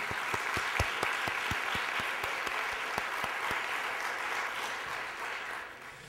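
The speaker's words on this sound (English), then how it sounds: "we can applaud them for their achievements in their absence." Audience applause at an award ceremony honoring Rolling Mills of South Africa, a steady wash of many hands with a few sharp nearby claps standing out, holding evenly before thinning slightly at the end.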